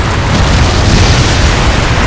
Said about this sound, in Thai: เครื่องกูเราจะระเบิดอยู่แล้ว